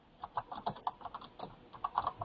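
Quick, uneven keystrokes clatter on a computer keyboard, close and clear, in short bursts with small pauses between them.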